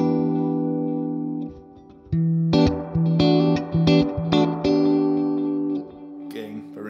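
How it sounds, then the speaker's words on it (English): Electric guitar played through a BOSS RE-2 Space Echo pedal with reverb added, sustained chords and plucked notes with loud echoing, swelling tails that repeat and decay, ending in a washy noisy fade. "let's add a little bit more of that reverb and try out the modes because I really like how it sounds."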